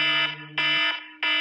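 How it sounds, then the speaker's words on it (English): A phone alarm going off at full volume: a loud, steady electronic tone repeating in three bursts with short gaps, a lower tone sounding beneath the first burst, no voices. "How the heck do you miss 4 alarms with the sound that sounds like this?"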